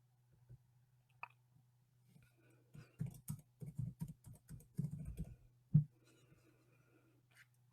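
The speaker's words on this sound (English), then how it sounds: "And let's type that in." Quick bursts of typing on a computer keyboard, soft close key clicks clustered in the middle with brief pauses before and after, against a faint low hum.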